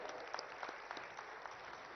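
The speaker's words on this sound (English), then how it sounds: "let us welcome him with a huge round of applause" Audience applause at a formal inauguration in Hyderabad as a Chief Minister steps forward: a steady, fairly faint wash of clapping from a crowd, holding at an even level throughout with no talk over it.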